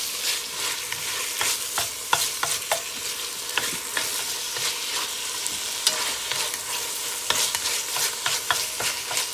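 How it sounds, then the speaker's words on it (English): Ground turkey sizzles in a pot with onions and tomatoes, a constant hissing fry broken by repeated scraping and stirring clicks, close up with no talking. "I'm gonna go ahead and add my turkey. I'm gonna let this get brown before I add everything."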